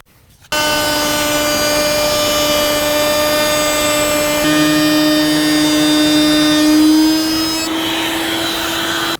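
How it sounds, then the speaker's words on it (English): Router mounted in a router table cutting a circle template in MDF: a loud, steady high-pitched motor whine with a slight shift in pitch and load midway as the bit bites, running continuously without speech. "Also, I was able to pull it back and adjust my grip every couple inches and keep routing without any problem."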